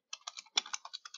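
Keys clatter on a computer keyboard in a quick, uneven run of about a dozen light clicks, close and clear, with no talk over them.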